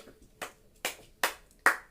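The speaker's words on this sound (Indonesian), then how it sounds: "tepuk tangan untuk kelompok 1" A short burst of classroom applause for the first student group: four sharp, separate claps spaced about every half second, close and clear in a quiet room.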